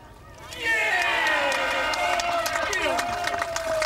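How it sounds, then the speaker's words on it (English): Spectators at a 2001 FishOMania carp fishing match raise a loud, sustained cheer that swells quickly and holds steady for several seconds, with excited voices layered through the crowd noise. "That cheer can only mean one thing"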